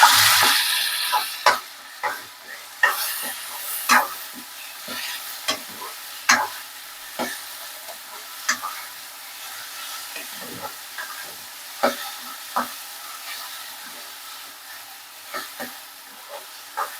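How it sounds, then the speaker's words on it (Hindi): Chopped onion, chili, ginger and garlic hit a hot pan for a rajma curry, giving a bright hiss that fades into a steady sizzle, broken by repeated clicks and scrapes of a spoon stirring, close and without talk. "अब हम इसमें डाल देंगे जो हमने प्याज, मिर्च और अदरक लहसुन को चॉप किया था।"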